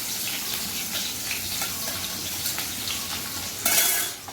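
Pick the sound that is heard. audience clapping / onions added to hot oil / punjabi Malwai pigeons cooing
onions added to hot oil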